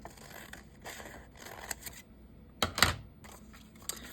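Scissors snip through sheet music paper in a series of short, crisp cuts, close and quiet, ending with a sharper closing snip, with no voices.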